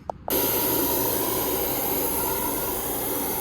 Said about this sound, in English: I'm going to put an airline through it, like I said, and just give it all a blowout and nice and dry